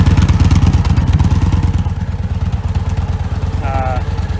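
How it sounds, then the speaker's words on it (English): Victory Vision motorcycle fitted with a stage 1 exhaust idling close by, a steady low, rapid rumbling pulse throughout with a brief faint tone near the end. "it's a stage 1 exhaust system. I'll go ahead and fire it up so you can hear it."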